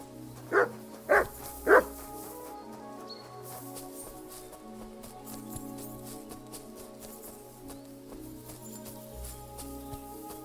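Three loud, close dog barks in quick succession from the game Kingdom Come: Deliverance II, followed by a quieter stretch of outdoor ambience and faint background music.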